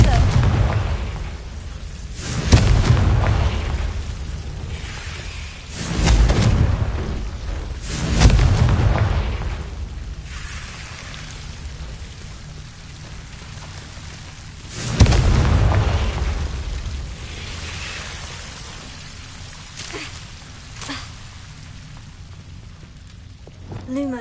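Confringo spell blasts from Hogwarts Legacy go off one after another as heavy booming explosions, about five of them spaced a few seconds apart, each trailing into a rumbling decay.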